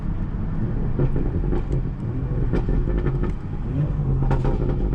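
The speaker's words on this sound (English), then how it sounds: "these downshifts though, crazy, crazy, crazy" A yellow Audi S3 roars steadily nearby, its engine note surging and dropping through downshifts with a deep, continuous rumble and no voices.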